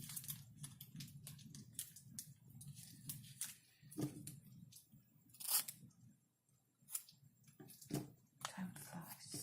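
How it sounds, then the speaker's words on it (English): Scissors snip triangles out of plastic Project Life photo sleeves in a quick run of soft, crisp cuts with brief pauses, recorded quietly and close, with a faint murmuring voice in the background. "I'm about to cut out all those triangles because I don't need them."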